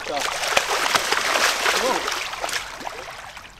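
A beluga sturgeon is released back into a lake, with close splashing and sloshing water that rises and then settles, while a person talks over it.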